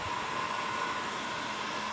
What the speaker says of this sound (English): So, heat gun or hot hairdryer. And I start heating it up well.